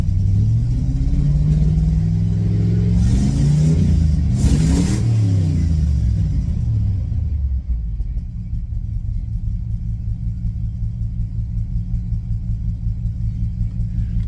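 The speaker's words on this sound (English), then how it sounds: "under part throttle is where it's missing at" A car engine idles and revs under part throttle with a rough, uneven rumble from a reported misfire, the revs rising and falling before settling back to a steady, loud idle.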